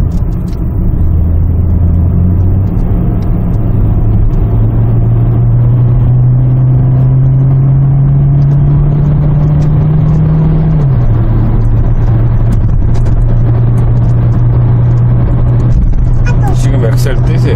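A 2009 Kia Lotze Innovation sedan with an engine output upgrade pulls uphill under hard throttle, its loud, steady engine drone rising slowly in pitch before dropping back to a constant hum, with people talking over it inside the cabin.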